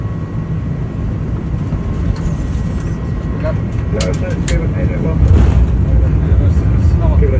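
Loud, steady cockpit roar inside an Airbus airliner landing on runway 27, with a deeper rumble swelling near the end as the wheels touch down. No one speaks.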